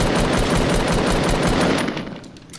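Rapid automatic gunfire in Fortnite, a loud sustained burst of shots that runs steadily for about two seconds before tapering off.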